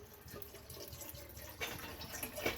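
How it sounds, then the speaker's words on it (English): Water is poured into an MRE flameless stove pouch, a faint, uneven trickle and splash that grows slightly louder toward the end, with no talking. "Going to add some water."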